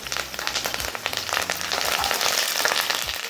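Curry leaves frying in hot oil give off a dense, crackling sizzle that runs steadily for a few seconds, with sharp pops scattered through it and no voices.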